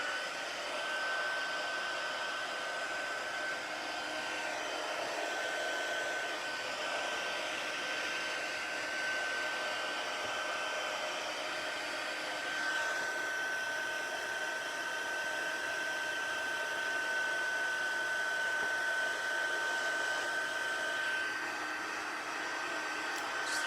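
Heat gun blowing hot air on a workbench, a steady, constant whooshing roar with a thin high whistle running through it, unbroken and moderately close.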